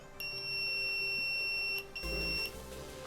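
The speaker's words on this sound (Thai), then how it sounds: "อันนี้ก็คือกดปุ่มแล้วจะทำให้ดังนะครับ แล้วกดปุ่มอีกทีก็จะทำการ ปิดบัตเซอร์นะครับ" A buzzer module driven by a NodeMCU ESP8266 board gives a steady high electronic tone that is switched on by a button press, holds for about a second and a half, then returns briefly before stopping.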